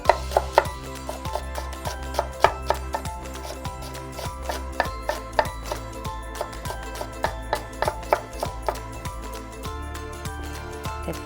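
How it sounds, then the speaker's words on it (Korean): A knife cuts through pork for buta kakuni on a cutting board, making a steady series of sharp, close thuds, roughly two a second, over soft background music. "결 방향을 썰어서 준비해 주시면 됩니다."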